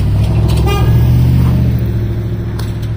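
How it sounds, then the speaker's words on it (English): A car horn honks briefly amid steady loud traffic rumble, a single short toot near the start, followed by continuing engine noise. "I think that guy honked at me."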